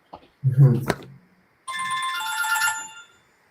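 A phone ringtone plays as a bright, steady melodic tone at close range for over a second, after someone speaks briefly in a casual conversation.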